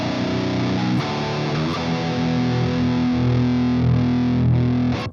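A seven-string guitar runs through the Absylon amp app in Cubasis 3 with a boost engaged, giving a loud, gritty distorted tone. Chords ring and sustain across the whole stretch with a few sharp new strums, and no one speaks.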